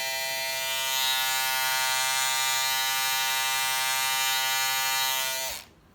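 Electric hair clippers trimming hair give a steady, close, high-pitched motor buzz for several seconds before switching off abruptly near the end, with no speech.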